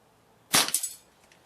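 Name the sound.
HW97KT air rifle shot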